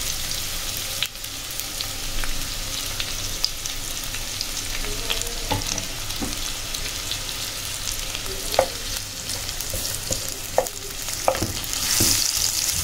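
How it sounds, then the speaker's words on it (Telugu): Chilli and carrot frying in a pan for egg noodles, a continuous close sizzle with occasional clinks and scrapes of stirring, louder taps near the end, no voices. "మిర్చి, క్యారెట్ వేసుకొని ఫ్రై చేసుకోవాలి."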